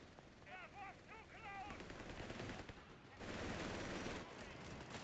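Rapid machine gun bursts and scattered gunfire from a battle in Company of Heroes 3, dense and continuous, with brief shouted voices mixed in early on.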